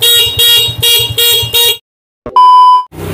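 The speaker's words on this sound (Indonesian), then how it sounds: "klakson" A Honda C70 motorcycle horn honks in five short, evenly spaced bursts, then a pause and one more higher, thinner beep; loud and close, no talking.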